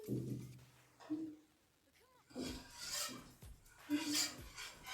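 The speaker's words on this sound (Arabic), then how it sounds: "بنحط الطحين ونحمصها مع الزبدة" Flour is toasted with melted butter in a pan and stirred in repeated soft, rasping scrapes that come and go, close by, while a person talks.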